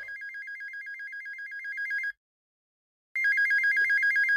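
A phone hidden inside a shoe rings with a steady, trilling electronic bell: a two-second burst of rapid warbling pulses, a second of silence, then the ringing resumes, loud and close.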